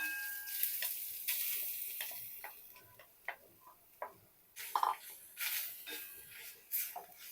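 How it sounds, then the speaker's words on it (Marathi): Grated fresh coconut stirred and roasted in melted ghee in a hot pan over low heat, giving soft ticking scrapes and faint sizzle in an irregular rhythm, close and quiet, with no talking. "हा ओल्या नारळाचा चव आपल्याला दोन ते तीन मिनटं मंद गॅसवर सतत असा परतून घ्यायचा आहे"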